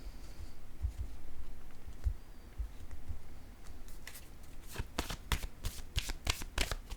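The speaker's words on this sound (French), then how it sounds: "Je vais déposer une carte ici." Tarot cards are handled on a table: a quiet stretch with a few soft low taps, then a rapid run of crisp, close card flicks and slaps near the end.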